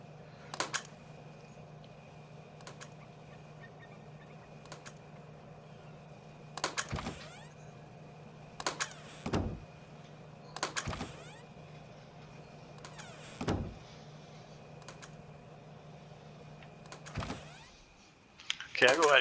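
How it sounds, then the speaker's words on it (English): Automated door in the Rust survival game clicking and swinging open and shut at irregular intervals, each broadband mechanical burst sharp and fairly close, repeating about eight times over a steady low electrical hum, with no talking. "it should keep clicking around and randomly resetting and opening and closing this door"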